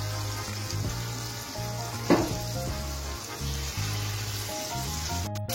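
Gokul pithe frying in oil over a low-to-medium flame makes a continuous close sizzle, with one sharp clatter partway through and a brief rattle near the end, with no talking.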